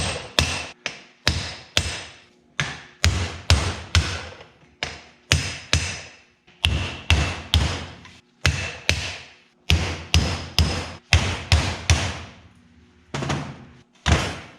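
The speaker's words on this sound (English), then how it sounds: "I should be able to hopefully hit them with a brass punch, get them to move just a smidge" A brass punch is struck with a hammer against the jaws of a vintage four-jaw lathe chuck to free them in their slots, giving a long series of sharp, loud metallic knocks in irregular bursts.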